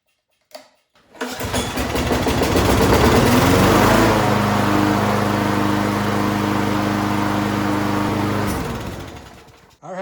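A lawn mower engine cranks once, then catches and runs steadily at a loud, even idle for several seconds before cutting off, a buzzing droning tone throughout.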